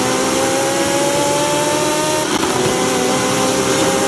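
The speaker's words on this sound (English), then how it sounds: "this V8 sounds insane" A high-revving V8 drag car engine in the Forza racing game screams loudly and steadily, its pitch climbing then briefly dipping before rising again, with no voices.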